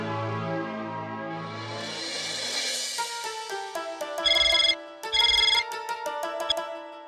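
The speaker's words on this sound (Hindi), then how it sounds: "तू एक काम कर, बाघा को फोन करके पूछ ले, उसे शायद पता हो।" A telephone ringtone plays in a Hindi sitcom scene: a loud electronic melody of short repeating tones that starts after a few seconds of a softer hum, with two denser pulsing bursts near the end.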